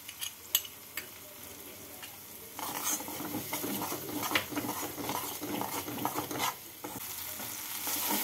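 Spice paste mixed with ground poppy seed, cashew and melon seed paste is stirred in a pan for a fried chhana curry, giving soft scraping strokes and a gentle sizzle that grows busier after the first few seconds.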